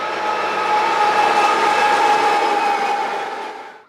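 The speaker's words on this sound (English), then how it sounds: "But when the train did come, I took my first recording that sounded like this." A passing train roars loud and close, the recording harsh and distorted from overloading the microphone, a dense sustained rumble with a metallic ring that fades out at the end.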